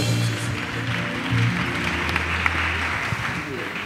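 A church congregation applauds in acclamation during a French and English service. Moderate clapping runs steadily beneath sustained musical tones and voices.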